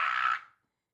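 A voice imitates an alarm ring in a single short, close buzzing burst lasting about half a second, then cuts to silence.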